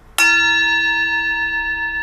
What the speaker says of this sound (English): Wait, I didn't do the right gong.